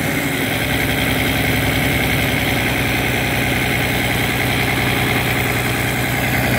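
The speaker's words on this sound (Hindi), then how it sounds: "गियर लगाते हैं तो ये उठाता है, घास को अंदर डालता है" A 4x4 tractor runs a grass bundle machine, producing a loud, continuous mechanical drone with a throbbing low rumble and an even hum that holds steady throughout. No voices are heard.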